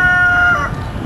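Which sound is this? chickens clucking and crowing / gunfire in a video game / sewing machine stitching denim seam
chickens clucking and crowing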